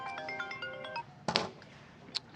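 A phone ringtone plays as a quick sequence of bright electronic tones at moderate volume, followed by a couple of thumps in the room.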